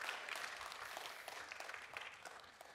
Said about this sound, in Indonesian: Mari kita beri tepuk tangan untuk saudara-saudari kita yang melayani dalam Music Ministers